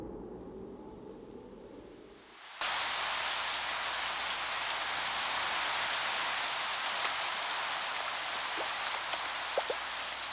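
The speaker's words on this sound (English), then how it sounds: "Finally, after months of drought, a long-awaited downpour." Sudden heavy downpour begins after a dry spell in the Kenyan savanna, a dense, steady hiss of rain that starts abruptly a couple of seconds in and roars on loud and unbroken.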